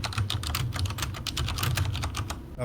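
Rapid typing on a computer keyboard, a close and busy run of crisp key clicks in an uneven rhythm lasting a few seconds, with no voices.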